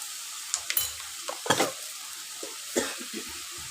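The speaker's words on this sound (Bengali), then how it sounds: "ব্যাস এবার এটা কষাতে থাকি একটু কষে গেলে" Pointed gourd curry stir-fried in a pan, with a soft background sizzle and scattered scraping strokes of a spoon against the pan, a few louder clatters standing out.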